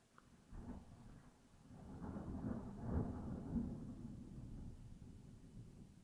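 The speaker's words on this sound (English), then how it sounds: "Oh, lightning. Oh, it's going to storm." Thunder during a storm rolls in as a faint, distant low rumble that swells and fades over several seconds, with a soft rain hiss beneath.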